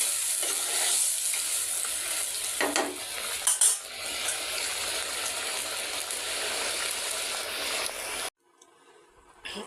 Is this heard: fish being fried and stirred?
yes